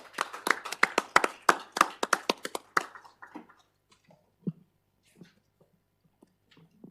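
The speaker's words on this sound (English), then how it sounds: "I'm going to give you a round of applause" A short round of clapping at a city council meeting, a few people applauding close by for about three seconds before it thins out into scattered faint claps and room quiet.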